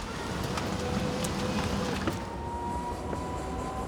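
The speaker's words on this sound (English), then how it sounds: "Other than the noise of the springs and the tires, you hear nothing." An electric conversion of a vintage car with its two-stroke engine removed rolls along, giving a steady rumble of tires and springs with faint clicks and a thin whine, no talking.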